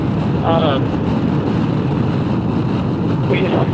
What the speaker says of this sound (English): it's the wind buffeting from the... Wind buffeting, yeah, it happens